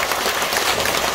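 Dense, steady applause from a crowd at a Korean Buddhist precepts ceremony as senior monks leave, continuous clapping throughout.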